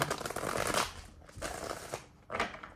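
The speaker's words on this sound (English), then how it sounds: "One more shuffle." A deck of tarot cards is riffled and shuffled in three quick bursts, crisp papery flutters up close with short gaps between.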